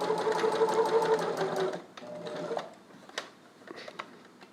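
Sewing machine stitching spandex for a mask, a fast rhythmic mechanical whir in a close burst, then stopping, followed by a few clicks and light handling noises.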